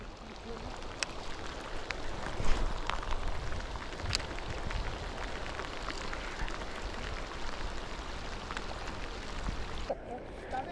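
Steady monsoon rain hisses over water during a Mahseer fishing outing, a dense even patter lasting the whole stretch with a few sharper drops and a brief louder splash early on.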